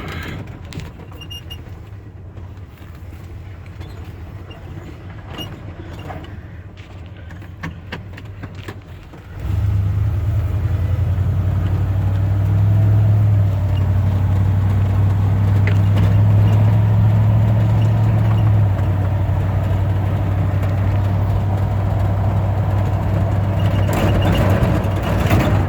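A 1978 Ford F250 4x4 pickup with a 400ci V8 and C6 automatic pulls away: quiet idle first, then a loud, steady low engine drone takes over as the truck drives, close, with no voices.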